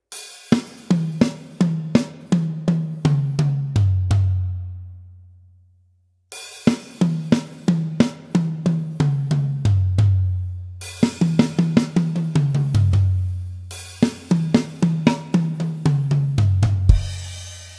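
A drum kit plays a song's beat in two repeating phrases, with sharp regular hits building into low tom rolls that ring out and decay, close and loud with no talking.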